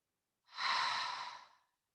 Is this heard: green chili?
no